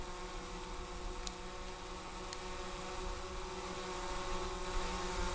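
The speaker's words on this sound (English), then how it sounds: "They actually send you a drone." Delivery drone arriving in a video game, a steady droning motor hum with a buzzing whine that holds throughout and swells slightly louder toward the end, with no talking.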